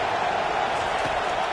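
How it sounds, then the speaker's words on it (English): Stadium crowd in the College Football 25 video game, Florida against Tennessee on third down, a loud, continuous roar of cheering throughout. "Decibels rising as the crowd gets behind this defense on third down"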